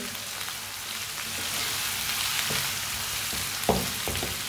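Garlic and ginger fry in a pan with a steady, loud, dense sizzle that runs throughout, with a few short scrapes as the mixture is stirred.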